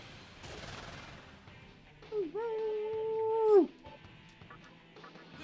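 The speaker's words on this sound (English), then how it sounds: "My dog barking." A dog barks and yelps indoors, heard distinctly at the middle of the clip and apparently reacting to something outside, over faint background game sounds.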